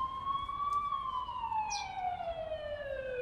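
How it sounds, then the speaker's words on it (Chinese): An ambulance siren in the horror video game The Coma: Recut wails as a single long, slowly falling tone, steady and moderately loud, passing outside a high school. "才刚讲而已，就有救护车的声音，吵死了。"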